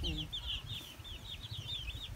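Farm chickens and a rooster cluck faintly and continuously in a repeating chatter, with low rumbling background noise beneath.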